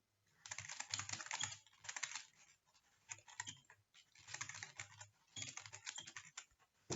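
A computer keyboard clatters in quick, uneven bursts of typing as code for a function is written, close and fairly quiet, with short pauses between runs of keystrokes.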